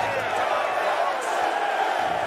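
A large crowd in a video game arena (Fable Anniversary) roars and cheers continuously, a steady wash of voices holding at a loud level throughout.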